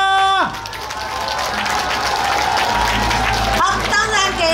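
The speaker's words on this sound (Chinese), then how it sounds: "请大家给来市长更加热烈的掌声" An audience at a folk culture festival street parade event applauds to welcome the city mayor, a sustained crowd clapping that follows and runs under a host's amplified voice.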